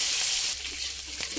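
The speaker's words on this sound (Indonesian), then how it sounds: "Setelah minyaknya panas, masukkan bumbu yang sudah dihaluskan tadi. Kita tumis bumbunya hingga matang dan tanak." Ground spice paste sautés in hot oil for a shredded-chicken fried wonton filling, a steady close sizzle and crackle that drops slightly in level partway through and continues alone without voices.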